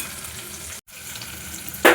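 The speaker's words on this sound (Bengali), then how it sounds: "পেঁয়াজটা আমার একটু ভাজা হয়েছে একটু ভাজবো" Onions fry in a pan with a continuous close sizzle that drops out briefly, then ends in a louder burst of stirring.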